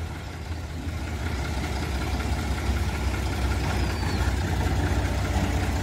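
A 1990 HMT 3511 tractor engine idles close by, a steady low mechanical rumble holding even throughout with a faint knocking texture and no talk.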